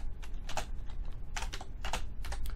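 Typing a command on a computer keyboard, a short burst of several quick key clicks in uneven clusters, close and fairly quiet, with no voices over it.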